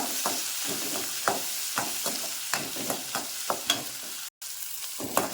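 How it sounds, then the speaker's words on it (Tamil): Two dried red chillies and curry leaves sauté in a pan with a steady sizzling hiss, broken by regular scraping stir strokes, close and continuous with no voices. "வரமிளகாய் ரெண்டு கருவேப்பிலை போட்டு இதை வதக்கிடுவோம்"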